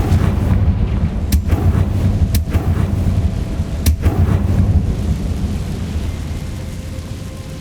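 A Confringo fire blast spell is cast in a Hogwarts wizarding video game, producing a few sharp cracking blasts over a loud, rumbling background.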